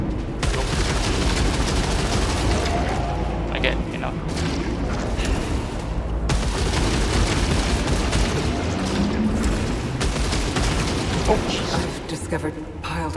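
Sustained loud gunfire and booming blasts from an alien weapon in the PS5 sci-fi shooter Returnal, dense and continuous for the whole stretch with brief dips, a player's voice talking over the din.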